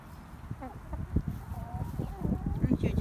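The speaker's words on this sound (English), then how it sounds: "And then here's the Plymouth Rock hen." A Plymouth Rock hen clucks in short, soft bursts close by, with a person talking quietly over the clucking.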